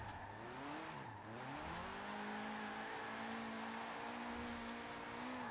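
Car engine in Forza Horizon 4 held at steady high revs while drifting around a circle, with a brief dip and rise in pitch near the start, then a sustained loud drone with faint tyre noise.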